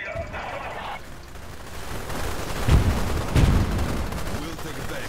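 Gunfire and anti-aircraft fire in the strategy video game Global Conflagration: a dense, steady crackle of battle with two heavier bursts near the middle, partly under a radio-style voice.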